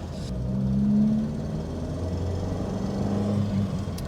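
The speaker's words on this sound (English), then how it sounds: "I don't know whether you can pick up that sort of tappety harshness coming through and the boom on the exhaust" A Ford Fiesta Mk1 with a 1.1-litre engine drives along, heard from inside as a low exhaust boom and engine drone, with tappety harshness under a steady rumble.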